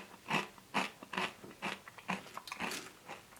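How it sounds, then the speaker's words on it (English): Close, crisp crunching of dry Kellogg's Special K Classic cereal flakes being chewed, a steady series of bites with no talking. "Quite a bit more substantial of a crunch than the regular cornflakes."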